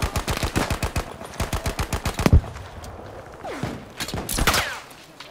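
Rapid automatic gunfire in Battlefield 5, a steady rhythmic burst of evenly spaced shots lasting about two seconds, followed by a sharp crack, scattered distant pops and a few quieter later shots.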